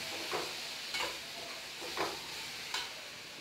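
Onions with curry leaves and coriander sautéing in a pan for chutney, a soft steady sizzle broken by four brief scraping stirs, faint and close with no voices.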